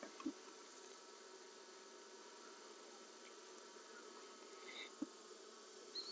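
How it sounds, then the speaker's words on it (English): Open hive box of honey bees droning in a steady, close buzz throughout, with a couple of brief bumps and knocks from handling the frames; no talking. "Box full of bees."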